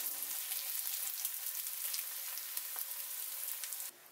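Pomfret fish pieces frying in a pan until crispy, a steady close hiss of sizzling oil that carries on evenly and cuts off just before the end.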